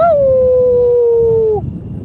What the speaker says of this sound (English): Y'all hear the coyotes?